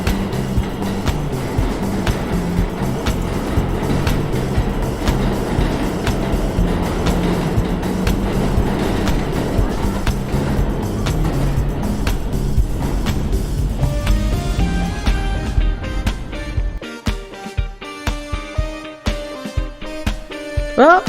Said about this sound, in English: Oh, I think I hear the train coming.